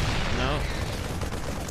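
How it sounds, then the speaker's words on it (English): Siege tank cannon fire in a StarCraft 2 battle, loud heavy blasts bursting against a busy layer of battle noise over a short stretch. "The tank fire was able to help them survive"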